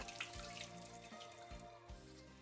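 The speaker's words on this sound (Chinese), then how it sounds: "直接从水里面取出来，利用流动的清水冲洗一下" Eggs are rinsed under running tap water in a kitchen, with a steady, soft flow of water close by and no talking.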